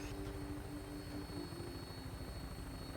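A vertibird aircraft in the Fallout video game flies overhead, its steady rotor thrum and engine drone filling the whole moment at a constant, fairly loud level with no talk.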